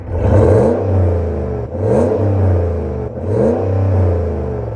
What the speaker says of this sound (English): An amazing sounding exhaust on this Hemi V8. Just incredible sounding.